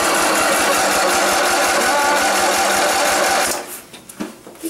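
A Troy-Bilt tiller with a twin boxer engine runs hard and close, a loud, rapid, even chugging throb that drops away sharply near the end and leaves faint scattered noises.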